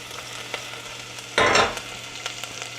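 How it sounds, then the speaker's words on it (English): Shallot cooking in a pan, a quiet low sizzle that swells into a short loud hiss for about half a second before settling back, heard close with no talking. "we have our shallot cooking up"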